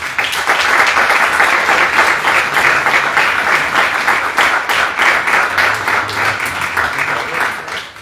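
Sustained applause from a municipal council meeting audience, a dense steady roar of many hands clapping at even loudness for the whole stretch, with a faint murmur of voices underneath.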